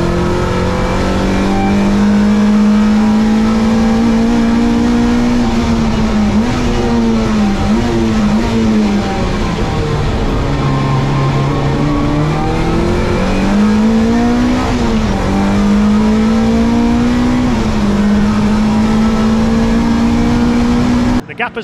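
A BMW E30 M3 race car accelerates on a track with a loud, close engine drone that climbs and dips through gear changes and throttle shifts, held continuously for over twenty seconds.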